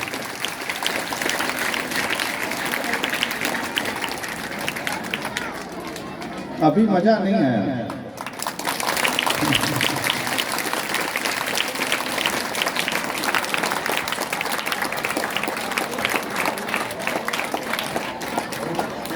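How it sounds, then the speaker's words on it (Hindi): Schoolgirls at a girls' school annual function in Varanasi clap in a dense, sustained roar of applause that fills most of the stretch, briefly dropping away while someone speaks, then surging back. "एक जोरदार ताली बजाइए आप सब अपने लिए।"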